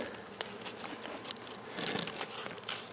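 Bees hum and buzz around an owl box used as a swarm trap, a close, busy drone with crinkling and soft tapping mixed in, steady throughout with no speech.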